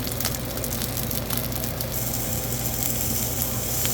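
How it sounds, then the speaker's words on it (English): Wild coho salmon sears skin-down in hot olive oil with a steady, close, crackling sizzle that holds evenly throughout, with no one speaking. "We'll sear this down for about a minute on the skin."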